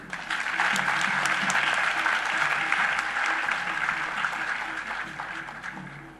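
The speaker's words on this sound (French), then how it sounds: "je voudrais vous inviter à les applaudir" An audience at a UNIR party congress applauds in a steady, dense burst of clapping that swells and then gradually fades, heard without talk.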